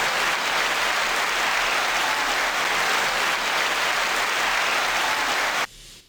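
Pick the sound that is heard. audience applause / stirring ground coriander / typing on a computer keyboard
audience applause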